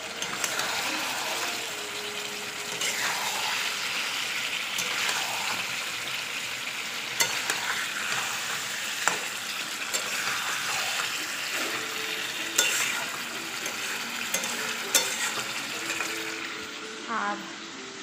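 Fat sizzles in a cooking pot, a steady close frying hiss with occasional clinks and stirring scrapes, and faint voices now and then.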